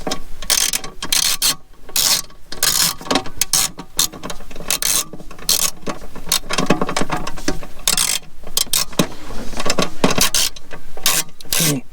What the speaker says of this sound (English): Just have to remove those screws up there.